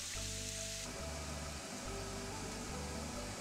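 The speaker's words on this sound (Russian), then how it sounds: "на разогретой сковороде с маслом пассируем лук на среднем огне до прозрачности" Chopped onion sautéing in oil in a preheated frying pan over medium heat, a soft continuous sizzle with faint crackle, quiet and steady throughout, no voices.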